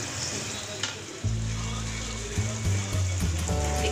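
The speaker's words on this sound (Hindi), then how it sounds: "इसको भूनने में 3 से 4 मिनट लगेंगे।" Masala fries in a pan for dal makhani with a steady sizzle and occasional stirring, joined partway through by a loud, droning low hum from nearby equipment.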